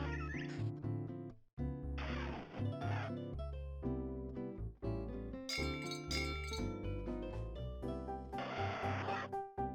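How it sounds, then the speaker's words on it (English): Bright, tinkling bell chimes from the Pokebell in the video game My Pokémon Ranch ring out in several short bursts over a busy, cheerful game music track. "Miis will pick up and ring the Pokebell to attract the attention of nearby Pokemon"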